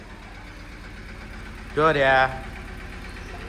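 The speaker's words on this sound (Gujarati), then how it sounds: "જો ટ્રેક્ટરનો અવાજ તો આવે છે." A tractor engine runs steadily at a village home, a low continuous idling rumble close by that persists throughout, with one short spoken word standing out midway.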